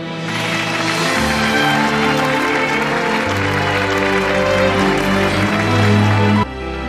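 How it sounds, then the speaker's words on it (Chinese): Warm applause from an audience at a banquet fills the room, dense sustained clapping that holds steady for several seconds under background music, then cuts off abruptly near the end. "所以我希望大家以热烈的掌声送给我的夫人"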